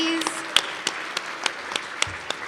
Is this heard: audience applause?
yes